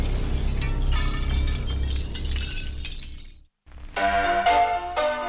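A car windshield shatters in a loud, sustained crash of breaking glass. After a brief silence, a second burst of sharp, ringing glass fragments follows.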